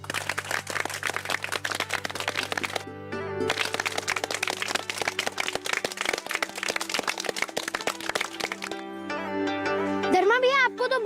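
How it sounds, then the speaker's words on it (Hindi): Children clap for Dharma bhaiya, a village youth praised for finishing a skill development course: a dense, rapid patter of many small hands, steady for several seconds, over a sustained tonal hum that swells near the end. "तालियां बजाओ।"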